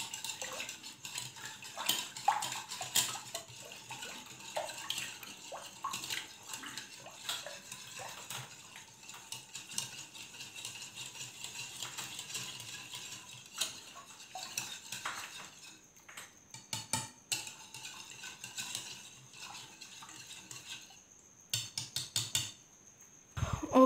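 Egg being mixed into cupcake batter in a bowl, with steady scraping and clinking of a utensil against the bowl, busy and close, plus occasional sharper knocks near the end.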